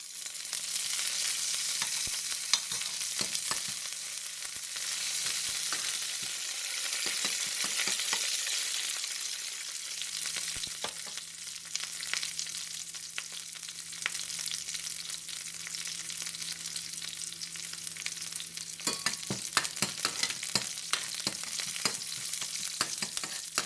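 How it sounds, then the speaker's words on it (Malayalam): A steady, loud sizzle of shallots and curry leaves frying in hot oil continues throughout, broken by occasional scraping and stirring clicks. "നമുക്കിനി ഇതിലേക്ക് ചുവന്നുള്ളിയും കറിവേപ്പിലയും ചേർക്കാം"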